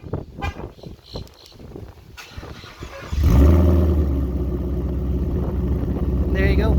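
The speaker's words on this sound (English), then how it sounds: "Typical Corsa with some bullet mufflers in between to tame down the sound." A red 2015 Ford Mustang with a Corsa exhaust and bullet mufflers starts up after some talk and settles into a loud, deep, steady idle rumble close by.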